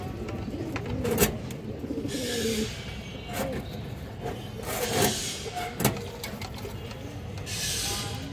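Pigeons coo in low, soft murmurs amid a busy loft, broken by sharp clicks and rustling wing noise, fairly close and without speech.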